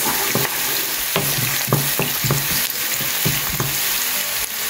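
Chopped onions and tomatoes sizzling in a hot pan while being stirred, with repeated scraping strokes of a spoon over a steady loud frying hiss.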